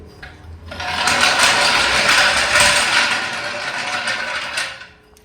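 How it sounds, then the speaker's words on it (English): A Harbor Freight Pittsburgh off-road jack is worked in a burst of rapid, loud mechanical clattering and ratcheting that runs steadily for several seconds before stopping abruptly. "Let's go ahead and do the Harbor Freight Pittsburgh jack."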